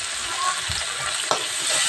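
Onions, chopped tomato and ginger-garlic paste sizzle in a pan as they are stirred, a close, even frying hiss with a soft scrape and a small clack of the spoon.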